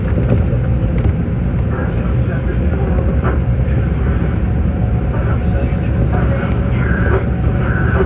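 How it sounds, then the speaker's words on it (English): A Long Island Rail Road commuter train rolls along in the rain, a loud, continuous low rumble and rattle heard from inside the car, with a voice talking over it. "This is the train to Penn Station."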